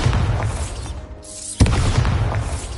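Bombarda blasting spell going off in Hogwarts Legacy, a sharp booming burst after a brief lull, set within a dense, loud din of continuous combat noise.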